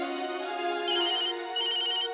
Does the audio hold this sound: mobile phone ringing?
yes